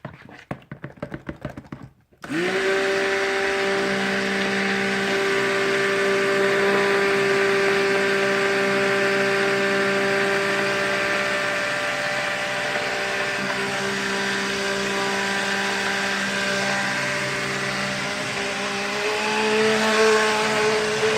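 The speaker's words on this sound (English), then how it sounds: "I'm going to go ahead and whip that up with an emulsion blender" An emulsion blender whirs steadily in a soap mixture with kaolin clay, a high, continuous motor whine that holds for many seconds after a brief start-up clatter and shifts pitch slightly as it works.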